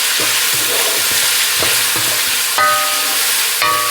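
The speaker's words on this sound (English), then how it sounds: "Then throw your meat on top of it. Cook it all in." Chicken and pork belly sizzling loudly in hot oil in a pan, a steady close frying hiss with repeated scraping stirs and a couple of sharp metallic clinks, no talking.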